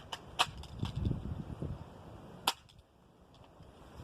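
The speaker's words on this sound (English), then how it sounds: "I'll be shooting that board of pine." An air pistol fires at a pine board, with a couple of sharp, short cracks spaced a few seconds apart against a quiet background.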